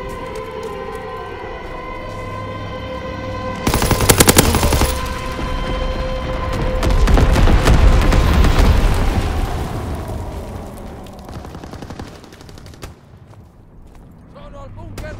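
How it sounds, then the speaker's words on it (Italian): Carpet bombing and machine gun fire in the Call of Duty WWII video game: a loud burst of rapid gunfire, then a heavy rumbling barrage of explosions that swells and fades, with voices in the mix. "Bombardamento a tappeto in arrivo!"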